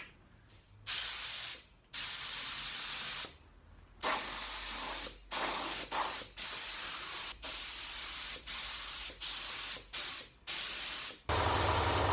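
A spray gun hisses Spralac paint onto the axle casing of a 1973 Foden S80 lorry in repeated loud, close bursts of several seconds each, broken by short silent pauses.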